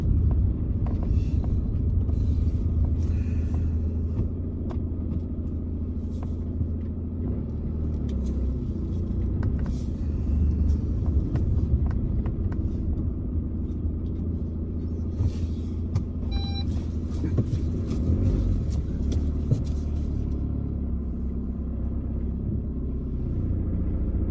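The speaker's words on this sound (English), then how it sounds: "So I'm just going to turn around here in the car park." A car drives and turns around in a car park near Eilean Donan on the road to Dornie, with a steady, loud engine and road rumble throughout and a few faint higher clicks and beeps mixed in.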